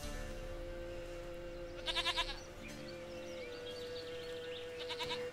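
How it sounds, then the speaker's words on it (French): Goat bleating in The Witcher 3, two short quavering bleats a few seconds apart over a low game music drone, moderately loud with no talking. "Tiens, elle est là, ta chèvre, là, ta princesse."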